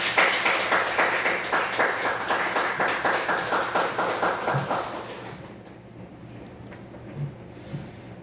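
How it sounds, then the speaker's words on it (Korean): Church congregation clapping together in a rhythmic burst that fades out after about five seconds, leaving a quiet room with a few faint thumps. "우리 크게 박수합시다."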